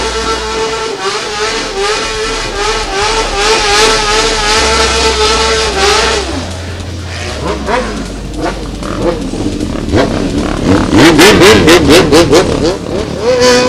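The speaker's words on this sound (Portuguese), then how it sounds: "Vamos roncar os motores" Several motorcycle engines rev loudly and repeatedly, with rising and falling whines and a sharp burst of throttle blips, under a noisy crowd.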